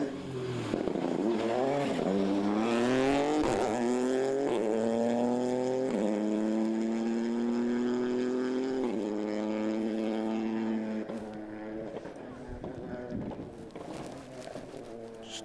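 A rally car at full throttle on a stage of the West Cork Rally, its engine note rising and holding steady for several seconds as it passes close and loud, then dropping away into the distance.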